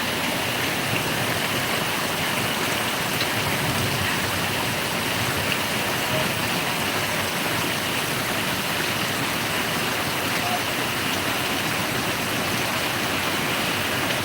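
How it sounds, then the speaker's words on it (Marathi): Dense, steady roar of heavy rain pouring without a break in Sangli district, Maharashtra, loud and broadband, with no voices. "एवढा ह्या वर्षी पाऊस पडलेला आहे"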